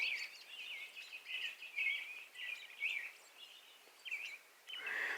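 Birds sing and chirp steadily outdoors on a still morning after high winds, a continuous chorus of high, bright calls at moderate distance, with no voices and no wind noise.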